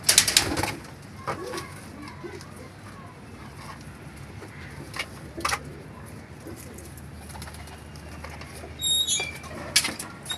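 A pair of pet pigeons coo close by, with soft, repeated throaty calls and occasional bursts of wing flapping over low background noise.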